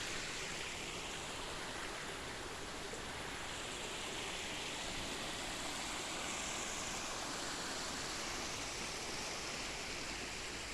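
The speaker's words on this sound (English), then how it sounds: "The water rushing." Steady rushing water from a stream or small fall, a constant broadband roar that never lets up, heard alone without voices.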